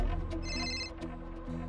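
A telephone rings in a home in a Marathi TV serial, a clear electronic ringtone with repeating tonal bursts, close and steady for nearly two seconds with no one speaking.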